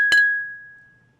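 A single bright glass clink rings out near and alone during a toast, leaving a clear sustained ping that fades over about a second.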